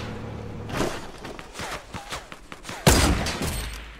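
Rapid bursts of gunfire in a Fortnite match, a run of sharp shots through the middle, then a loud close blast near the end followed by a lingering noisy tail.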